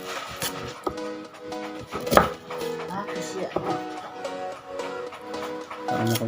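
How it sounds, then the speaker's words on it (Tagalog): Knife chopping onions on a cutting board in a home kitchen, a series of sharp irregular taps close by, with one louder knock, and a faint voice now and then. "O siwa pa tayo ng sibuyas."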